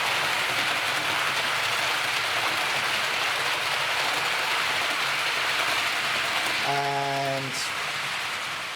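A model train with eight carriages, run on a Gauge Master Prodigy 2 controller during a test of Hunt couplings, rumbles along the track with a continuous rattling roll. A brief tone sounds near the end, and a voice says a single word.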